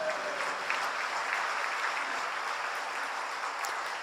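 A congregation claps during an evening church worship service. The applause is a steady, dense roar of many hands that holds evenly for several seconds with no voices over it.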